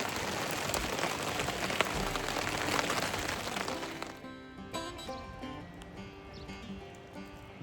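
Rain falling through woodland at a hunting camp, a dense loud patter on leaves and ground that drops abruptly partway through to a thinner, sparser dripping.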